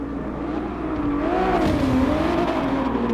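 Ferrari 512BB from 1976 with a 5-litre V12 engine racing on track in GT Sport, its loud, steady engine note rising and falling through gear changes, close and continuous with no talk.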